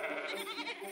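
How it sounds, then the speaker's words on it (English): A single sheep bleats close and clear, one short wavering cry lasting under a second. "A sheep, that's right."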